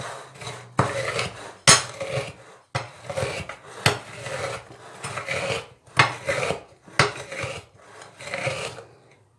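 Oreo biscuits crushed by hand in a bowl, making repeated rough crunching and rubbing bursts in a steady rhythm of about one per second, close and fairly loud, with no speech.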